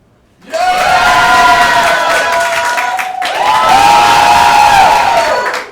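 An audience at a hip hop showcase cheers loudly and steadily for a rapper, with shouts and whoops forming a dense roar that swells again midway and keeps going without pause.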